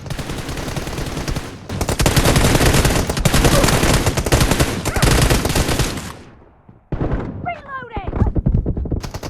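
Gunfire in the PUBG Mobile video game, dense automatic bursts for several seconds, then a pause and more scattered shots, loud and close, with people talking over it.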